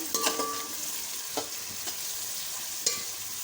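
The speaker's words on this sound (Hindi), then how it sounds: "तब तक इसको हम फ्राई करते रहेंगे इसमें चम्मच चला चला के" Prawns sizzle softly in a pan with okra nearby, and a spoon scrapes and taps against the metal in a few sharp strokes over the steady frying hiss.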